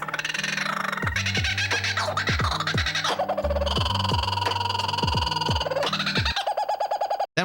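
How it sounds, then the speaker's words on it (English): A kookaburra gives its territorial call, a loud, rapid series of cackling, descending notes that build and repeat, close and clear. "this kookaburra, which makes this distinct territorial sound"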